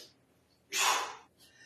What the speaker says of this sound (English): tighten my abs and forcefully exhale through the motion